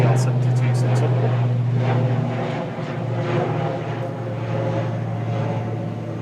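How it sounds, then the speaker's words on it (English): Logan Air ATR 72-600 turboprop at Manchester Airport, a steady droning hum with a strong low tonal throb and broadband engine noise, heard continuously under someone talking. "Logan Air Flight LM28 to Aberdeen, GLMTG ATR 72600."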